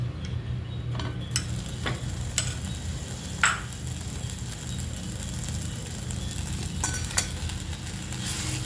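Khova stirred into roasted coconut in a pan, a low steady sizzle with scattered light scraping and ticking from the spoon against the pan, close and continuous, no talking.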